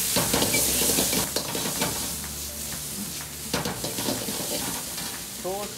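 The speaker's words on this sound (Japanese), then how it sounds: "でセロリを炒めます。" Celery sizzling as it is stir-fried in a pan with squid cooking nearby, a constant loud frying hiss with scraping and clinking of a utensil stirring against the metal, close up.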